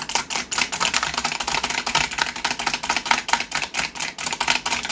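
Rapid, dense clicking of a Razer computer keyboard's keys, loud and close, with a steady stream of overlapping keystrokes and no talking.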